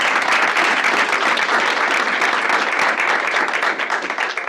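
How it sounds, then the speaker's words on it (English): A roomful of people at a stakeholder meeting claps in sustained, dense applause that stays loud throughout and tapers slightly at the end. "let's give a round of applause"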